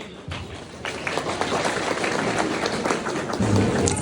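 Audience applause at an Erzurum cultural and solidarity association iftar dinner as a guest is invited to the stage, steady dense clapping from a crowd lasting throughout, fairly loud and continuous.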